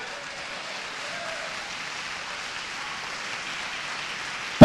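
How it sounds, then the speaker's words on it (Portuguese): A church congregation claps in a steady, soft, distant patter of many hands that stays even throughout, cut off by a single sharp, loud knock at the very end. "Pode aplaudir mais forte ao Senhor."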